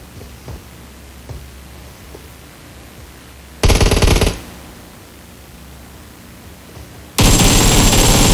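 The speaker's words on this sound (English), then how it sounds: "Shots coming out from Immortal" Automatic gunfire in an esports video game match, two loud, dense bursts of rapid shots breaking through quieter background game ambience, with no voices.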